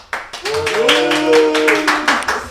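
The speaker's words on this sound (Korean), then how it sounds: "박수가 나네" Several people clap in a small broadcast studio, sharp close claps in an uneven rhythm over a sustained voice speaking or humming.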